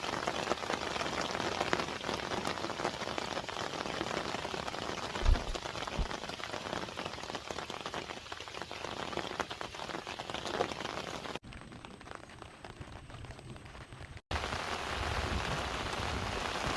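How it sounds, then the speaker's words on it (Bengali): Heavy rain pours steadily on a boat travelling into the Sundarbans forest, a dense, loud, unbroken hiss that dips briefly quieter near the end before returning at full strength. "প্রচণ্ড বৃষ্টি শুরু হয়েছে।"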